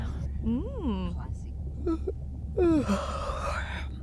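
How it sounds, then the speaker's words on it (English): A character in the video game Beyond Blue yawns: a few drawn-out, breathy voiced sighs that rise and fall in pitch. The sighs are close and clear over a quiet background hum. "Was that a yawn?"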